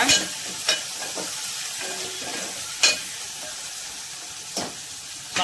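Onion, tomato and garlic sauté in a pan for sambar with a steady close sizzle, broken by a few louder stirring scrapes; no one speaks.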